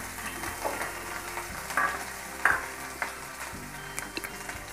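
Cashews and raisins frying in hot ghee in a pan: a steady, close sizzle with light crackles and occasional stirring clinks.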